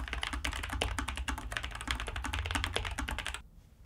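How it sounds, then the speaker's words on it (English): Fast, continuous typing on a Nuphy Air75 V2 low-profile mechanical keyboard, dense rapid clacky keystrokes close to the microphone for over three seconds before stopping abruptly, with no talking. "I want to know how fast can I type on it."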